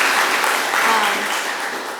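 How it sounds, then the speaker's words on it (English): An audience claps steadily after a Constitution Day talk, a dense, even patter of many hands filling the room close by, with a faint voice underneath. "If we can all give him another round of well-deserved applause."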